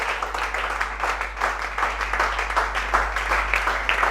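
Loud, sustained applause and cheering fill a church as the congregation acclaims the Lord, many hands clapping in a thick, even roar that swells and dips across a few seconds over a low hum.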